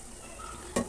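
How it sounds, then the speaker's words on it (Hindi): Murali dough strips frying in a pan, turned gently with a spoon: a faint, steady sizzle broken near the end by a single short metallic clink. "इस तरह से हमें हल्के हाथ से इसको अलट पलट करना है जब तक ये गोल्डन ब्राउन ना हो जाए।"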